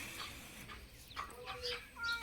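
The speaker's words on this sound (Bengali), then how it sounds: "এইদিকে কেমন একটা বিড়াল মিউ মিউ করে আওয়াজ করছে" A cat meowing faintly in a kitchen where fish is being prepared, a few short mews spread over a quiet background.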